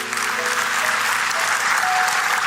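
A church congregation at a teen worship service claps together, a dense, loud and continuous applause lasting a couple of seconds with faint tonal hum underneath.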